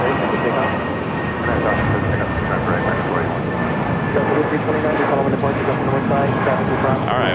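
An airliner takes off at LAX with a loud, continuous roar of jet engines building and sustaining, heard from nearby, with a thin steady whine on top and a voice speaking over it.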